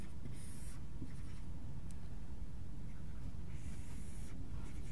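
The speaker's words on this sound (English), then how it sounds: "let me draw kind of a picture" Marker or chalk drawing on a board during a computational geometry lecture on trapezoidal decompositions, heard as a few scratchy strokes in two bursts over low room noise, with no talking.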